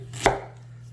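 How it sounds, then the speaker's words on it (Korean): A single knife stroke cuts diagonally through a whole carrot on a board, one sharp, close crunch with a brief tail, otherwise quiet. "통당근을 먼저 사선으로 넓이가 1cm 써세요"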